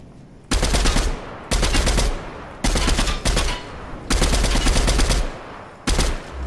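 Rapid automatic gunfire in a video game comes in about five loud, close bursts, with short quiet gaps between them.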